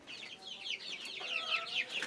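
Tiger chickens cluck in a backyard setup shared with rabbits and pigeons, with a quick run of close, overlapping clucks and squawks and no talk.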